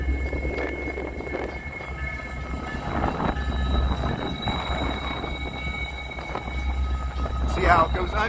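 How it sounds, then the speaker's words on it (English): A diesel locomotive pulling a Metra commuter train out of Union Station in Chicago, a steady low engine drone with rail noise and tonal squeal, a bright screech near the end, with people talking over it. "Here's a diesel engine here pulling out a Metro train coming out of"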